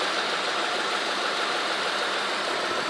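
A 1996 Mitsubishi Montero truck engine idles steadily up close, a dense, even mid-range rumble with slight knock and vibration, running alone without talk.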